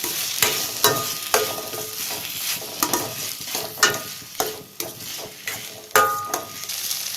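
Dried fish thokku with tomatoes fries in a pan while a spoon stirs it, scraping strokes and soft clanks repeating over a steady close sizzle.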